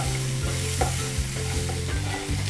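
Onions sautéing in a pan for Karnataka-style puri saagu, a steady broadband sizzle with soft, regular scraping strokes from stirring, close and continuous with no voices.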